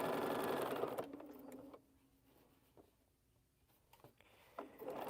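A home sewing machine stitches a quilt seam in a fast, steady whir for about a second, then stops. Quieter handling clicks and rustles follow, and the motor briefly picks up again near the end.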